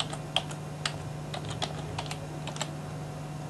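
Keys tapped on a computer keyboard to type a folder name, a steady run of sharp, close clicks with small pauses over a low constant hum, no voices.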